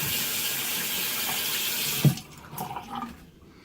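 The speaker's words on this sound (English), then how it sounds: "Initial wetting of the blades." Water runs steadily from a tap over razor blades before a head shave, a broad continuous stream that cuts off abruptly after two seconds, leaving a few faint drips and clinks.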